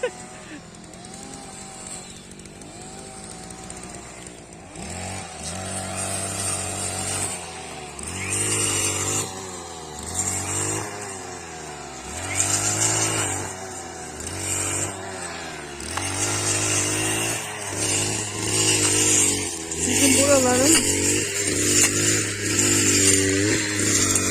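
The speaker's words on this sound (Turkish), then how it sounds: "motor sesi de amma da geliyor" A small motor engine runs steadily through the whole stretch during rural spring yard work in a Black Sea village, a droning buzz under close conversation and laughter.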